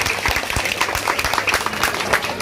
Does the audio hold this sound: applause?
yes